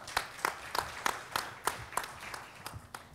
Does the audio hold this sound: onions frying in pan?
no